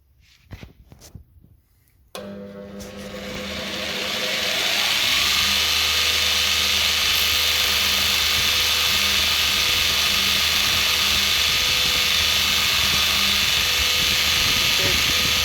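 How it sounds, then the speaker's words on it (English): A power grinder shapes a rifle recoil pad to fit the stock. A few quiet clicks come first, then the motor kicks on at about two seconds and ramps up into a loud, steady, high whine that holds to the end. "We'll grind a little bit off and we'll check it against the stock and see what it looks like."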